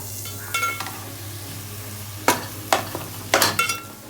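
Sliced bananas go into a pan of frying desiccated coconut for banana halwa, giving a few scraping stirs and short bursts of sizzle over a steady low kitchen hum, close and moderately loud with no talk.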